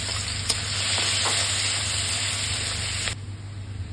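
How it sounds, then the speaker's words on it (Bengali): Crushed garlic and a dried chilli frying in hot mustard oil, a close, constant hissing sizzle with faint stirring scrapes and a low hum beneath, easing slightly near the end. "রসুনটা অল্প লাল করে ভেজে নেব।"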